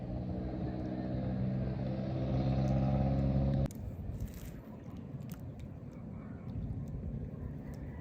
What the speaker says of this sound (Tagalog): kaya rinig na rinig pa rin namin ang sasakyan sa kalsada.